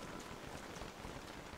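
Steady rain falls in the video game Don't Starve, a dense, even wash of patter and hiss at moderate level with no other sound over it.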